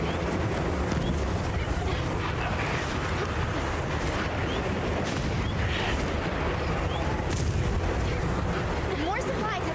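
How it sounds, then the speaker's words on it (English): A bomb barrel goes off in a video game, heard as a dense, continuous roar of blasts and rumbling noise that stays loud and steady throughout, with no clear pauses between impacts. "Gonna use the bomb barrel."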